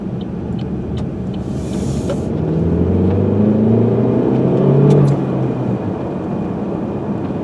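A turbocharged four-cylinder car engine revs up and settles with a throaty, rising drone, loud and close, with no voices.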